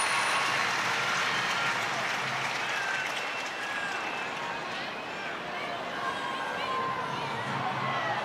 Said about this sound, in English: Huge applause in the King Power.